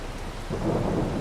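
Steady rain hisses over a low, rolling rumble of thunder that swells partway through, a brief stretch of storm weather in the video game Farming Simulator 22, with no voices.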